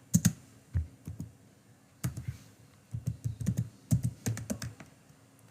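Someone types HTML code on a computer keyboard in quick bursts of clicking keystrokes separated by short pauses, close and fairly quiet.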